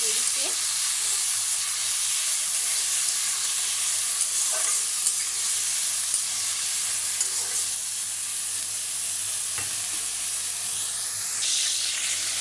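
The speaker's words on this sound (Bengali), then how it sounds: "আমি কিন্তু তেলটা গরম করে তারপরে কিন্তু করলাটা দিয়ে দিচ্ছি" Bitter gourd fries in hot oil in a wok, giving a loud, steady sizzle and hiss that runs unbroken throughout, with occasional faint stirring clicks.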